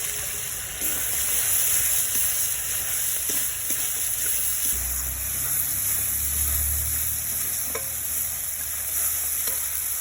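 Chopped tomatoes sizzle loudly in a pan of oil and cooked-down spices including turmeric, a steady close frying hiss with occasional stirring scrapes and no talk.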